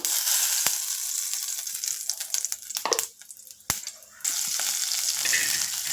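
Ground spice paste sizzles in hot oil for rasam, with a loud, continuous frying hiss broken by stirring clatters and a brief quieter dip before the sizzle returns.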